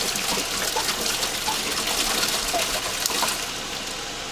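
Liquid sanitizer poured into a beer fermenter in a basement home-brew setup, a steady close splashing trickle lasting a few seconds.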